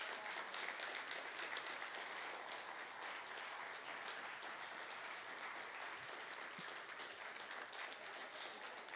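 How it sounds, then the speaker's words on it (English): Steady applause from a crowd fills the space, a dense wash of clapping that holds evenly throughout, heard from a distance. "give them a big round of applause as they take their seats this morning"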